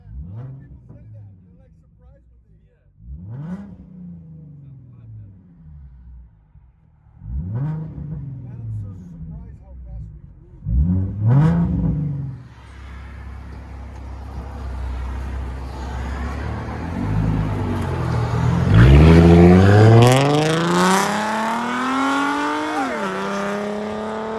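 A Ford Mustang V6 engine revs repeatedly in sharp bursts, then builds into a longer, louder rising rev, heard from inside the car, with a voice talking over it.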